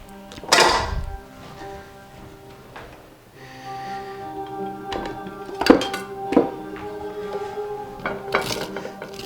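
A knife cuts through the crispy rice crust of tahdig, giving close, crunchy cracks and thunks against a plate or pan that come in irregular bursts.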